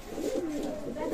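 A Sakhi or Omani pigeon gives a soft, continuous low coo, close by and brief, with faint background noise.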